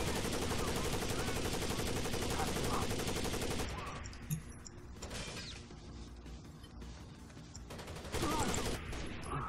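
Sustained machine gun fire from a scoped weapon in Rainbow Six Vegas 2, loud dense bursts that break off midway, leaving quieter mechanical clatter before another burst resumes.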